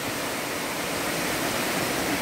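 Water pours down at a waterfall during sudden rain, a dense, even broadband rush that holds steady and fairly loud from start to finish with no voices.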